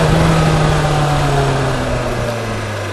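A 2020 BMW S1000XR motorcycle engine braking on deceleration, a loud close engine note with a steady low tone that slowly drops in pitch and fades slightly over a few seconds, no voices.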